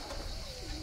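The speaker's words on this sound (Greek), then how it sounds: "Τα ίδια περιστέρια βέβαια." Pigeons in a loft in Pieria, Greece give a short, low coo at moderate distance over faint background noise.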